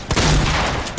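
Gunfire in the battle royale game Fortnite: a dense, loud burst of rapid shots filling about a second, close and continuous with a sharp onset and tail.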